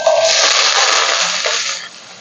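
Chopped onion dropped into hot coconut oil in a pan for Kerala-style fish pollichathu gives a loud, steady hiss that fades slightly over two seconds.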